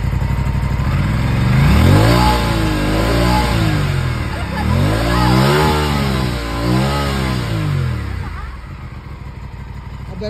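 An Aprilia scooter engine is revved hard up close, with several loud rising-and-falling surges of throttle, then eases back toward idle near the end. No one speaks.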